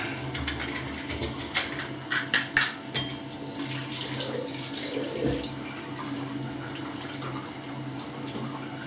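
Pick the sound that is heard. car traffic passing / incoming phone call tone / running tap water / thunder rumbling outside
running tap water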